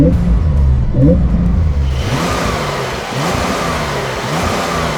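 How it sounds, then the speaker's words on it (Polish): A six-cylinder diesel car engine runs with a deep, loud rumble close by, then revs up with rising pitch and holds a higher, rougher drone. "No jak taki sześciocylindrowy diesel tutaj brzmi."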